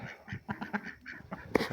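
Several Indian Runner ducks quack and honk nearby in quick, uneven calls, one louder squawk near the end.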